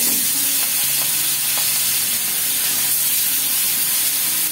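Fish coated in turmeric, salt, chilli, ginger and cumin paste frying in mustard oil in a kadai, a loud, dense, continuous sizzle and hiss close up, with no talk.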